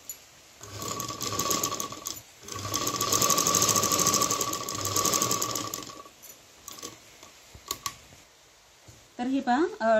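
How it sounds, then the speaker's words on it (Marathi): A sewing machine runs double stitching around the neckline of a heavy embroidered blouse, with two long continuous bursts and a few shorter ones, fairly loud and close, with a voice speaking near the end. "आता इथून मी शिलाई मारून घेते राऊंड"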